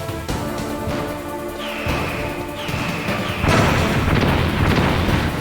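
Several heavy booming explosions from grenades in Metal Gear Solid, loud and close, arriving in quick succession with crashing debris and rising game tones between them.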